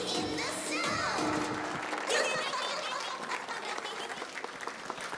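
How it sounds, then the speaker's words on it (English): Audience clapping steadily for about five seconds after a children's snow-themed dance performance at a school, with children's voices and crowd murmur mixed in and a brief louder surge near the middle. "Let's give them a big round of applause."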